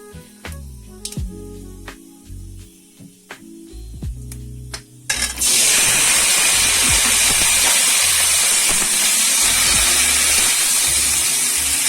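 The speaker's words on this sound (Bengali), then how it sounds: "এবার তেলে আমি 5 ফোড়ন দিয়ে সব সবজিগুলো দিয়ে দেবো" Panch phoron five-spice and vegetables, including drumsticks, hitting hot oil for a curry, beginning with a few scattered clicks and then bursting into a loud, steady, close sizzle that continues to the end.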